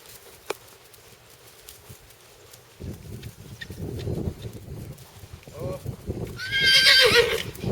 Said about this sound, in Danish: For der kommer en hest mere.